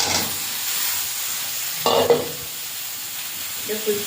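Ridge gourd and potato frying in a pan with ground coriander and cumin paste, a steady close sizzle broken by two short bursts of stirring and scraping.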